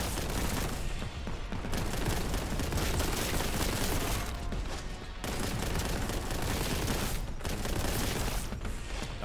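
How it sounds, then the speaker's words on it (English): A gun in the shooter Warhammer: Boltgun fires in rapid, loud, continuous bursts, close and heavy, with short pauses between volleys and no speech. "Goddamn gun sounds good as hell"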